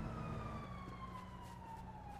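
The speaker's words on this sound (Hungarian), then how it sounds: "nagyon sok a sziréna, meg mindig itt a motelnél is" A police siren in the GTA RP video game wails steadily with a gliding, slowly falling tone over a low engine hum. It sounds fairly distant and faint.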